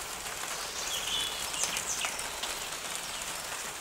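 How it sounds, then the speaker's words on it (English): Steady morning rain hisses and patters throughout in Ireland, with a few faint bird chirps in the distance. "It's raining."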